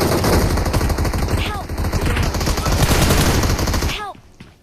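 Rapid automatic gunfire rattles loudly and almost without a break during a battle royale video game match, with ringing impacts near the end before the shooting drops away.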